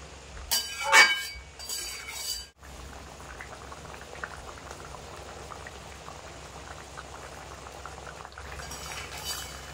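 Mustard boal fish curry with chopped tomato simmering in a pan, a steady bubbling boil throughout with a couple of louder sizzling bursts near the start.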